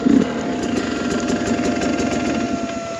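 A 2021 Sherco 300 SE dirt bike with a Lectron Billetron carburetor climbs a hill in second gear, its engine droning steadily and evenly throughout at a moderate, close-up level, with no talk over it.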